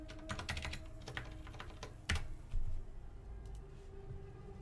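Someone types a note on a computer keyboard, producing quiet, irregular clicks and taps close by, with a couple of slightly heavier key strikes partway through.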